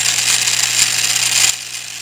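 A variable speed wood lathe with sanding attachments and a locked headstock starts up, a steady mechanical whir holding for about a second and a half before dropping to a lower, quieter running hum.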